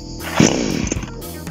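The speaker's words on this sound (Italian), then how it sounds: "con la corda avviamo la motosega" A cheap Chinese-made gas chainsaw is pull-started with the air filter choke open, sputtering briefly to life with a sharp rising snarl before dropping back, loud and close.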